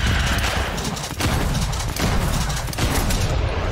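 Rapid gunfire from a Dead Island 2 firefight, dense overlapping shots with booming bursts forming a loud, continuous barrage across the whole clip.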